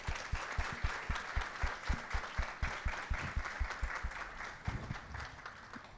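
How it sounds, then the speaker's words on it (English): A graduation gala audience at Fort Canning applauds to thank their parents, a broad sustained wash of many hands with a rhythmic pulse of clapping near the front, steady for several seconds before easing slightly. "Let us take a moment and applaud to thank our parents for their unwavering support and unconditional love."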